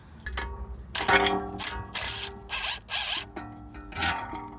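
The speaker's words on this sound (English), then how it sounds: "we've got these two 10mm nuts to take off" Close ratchet clicks and metallic mechanism sounds in short bursts and rasping runs as 10mm nuts are removed from a brake line mount on an Alfa Romeo Stelvio or Giulia, with no talking.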